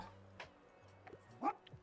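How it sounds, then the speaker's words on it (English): A dog in a video game gives a few short, faint yips and barks, scattered quick bursts over a quiet background. "Oh, a doggo."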